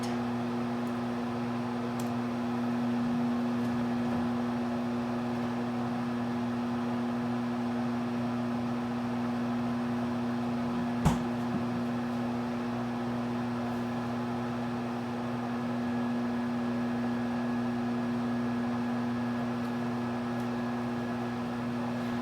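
A microwave oven cooks barbecue pork chops, giving a steady, even hum with a constant low drone throughout and one brief click near the middle, with no voices.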